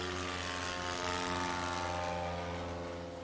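A STOL light aircraft taking off from a grass strip at an Appalachian Mountain short takeoff and landing competition, its propeller engine droning at a steady even pitch, moderately distant and fairly quiet.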